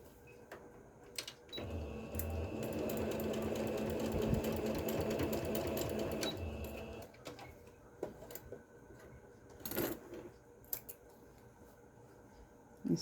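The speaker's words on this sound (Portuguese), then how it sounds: "Vou costurar esse pedaço." A sewing machine stitches fabric in one steady, fairly loud whirring run of several seconds, then stops, followed by lighter handling clicks and rustles of the cloth.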